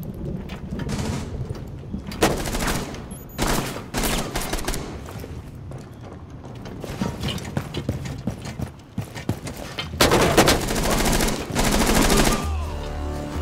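Gunfire in the Rainbow Six Siege video game, several dense bursts of rapid automatic shots separated by quieter stretches of footsteps and movement, loud and close, with a brief mechanical sound at the end.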